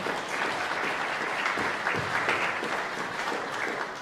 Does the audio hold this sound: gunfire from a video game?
no